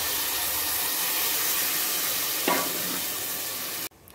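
An onion and tomato paste for country chicken curry fries in a pan, giving a steady close sizzle with a brief stirring scrape midway before cutting off.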